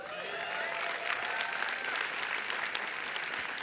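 A crowd applauds steadily, a dense, even wash of many hands clapping at once, sustained throughout without pause.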